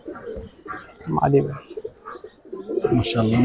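Giribaz pigeons coo in soft, throaty bursts at close range, several calls overlapping, with human voices talking at times underneath.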